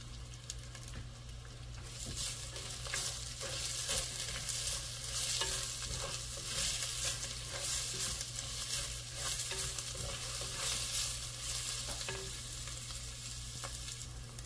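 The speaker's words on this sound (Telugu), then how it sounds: "ఇప్పుడు ఆనియన్ వేసుకొని మంచిగా లైట్లీ గోల్డెన్ బ్రౌన్ వరకు ఫ్రై చేసుకోవాలి" Onions fry in a pan for beetroot biryani, a continuous soft sizzle with stirring and scraping throughout, close and steady, without talk.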